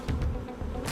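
Honey bees buzz steadily at close range during an early July hive inspection of a colony that appears queenless, a dense low drone with brief swells and no voices.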